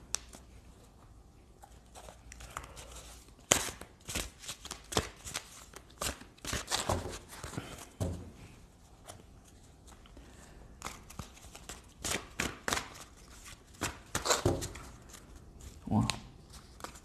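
Tarot cards being shuffled by hand, a run of soft papery riffles and slaps coming in irregular bursts, close and moderately quiet, with brief pauses between handfuls.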